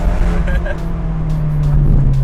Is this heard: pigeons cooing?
no